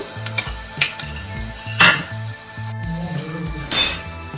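Curry leaves, asafoetida and turmeric powder hit hot oil as a tempering for Kathiyawadi drumstick kadhi, giving two sharp sizzling bursts over a quiet, steady cooking background with soft tonal music underneath.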